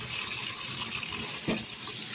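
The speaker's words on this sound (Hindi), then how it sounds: "इसके ऊपर ठंडा पानी डाल देंगे" Steady splashing of cold running water pouring over pasta in a sink, continuous and close, with a brief louder gush partway through.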